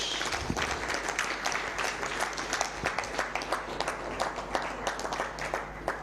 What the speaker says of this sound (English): as the Honorable Minister signs off, let's give it a round of applause.